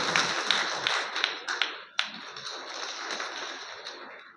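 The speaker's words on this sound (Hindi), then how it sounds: "जोरदार तालियां" Applause from an audience at a political speech, a spatter of claps and taps that rises and fades unevenly, fairly close, without voices.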